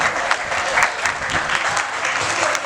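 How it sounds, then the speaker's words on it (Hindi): Audience applause welcoming the society president onto the stage at a housing society annual general meeting, a dense, steady wash of many hands clapping close by with no break. "एक बार जोरदार तालियों से स्वागत कीजिए मीनाक्षी जी का मंच पर।"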